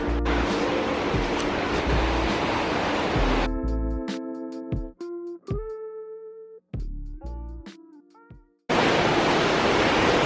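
Loud rushing water of a waterfall at Silver Falls State Park, Oregon, roars steadily, then briefly gives way to a few harmonic tones before the roar returns.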